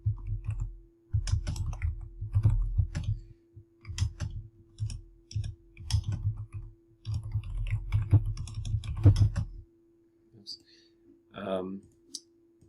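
Computer keyboard typing in quick bursts of clicky keystrokes with short pauses, heard close, ending in a brief quiet stretch and a faint voice.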